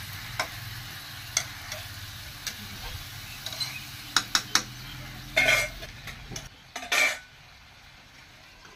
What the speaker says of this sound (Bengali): ঢাকনাটা দিয়ে দিলাম।